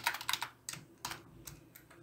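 Typing on a computer keyboard, quick clusters of light key clicks with short pauses between bursts, close and fairly quiet with no talking.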